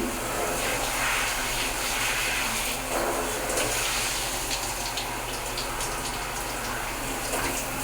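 A shower head sprays water in a steady, loud, hissing rush for several seconds without a break, and no one talks over it.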